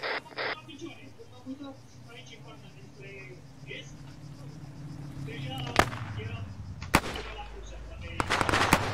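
Video game gunfire comes as sharp, loud cracks, a few spaced single shots followed by a quick burst at the end, over low background rumble and murmured talk.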